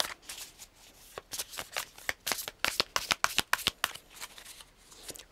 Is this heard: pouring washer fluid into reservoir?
no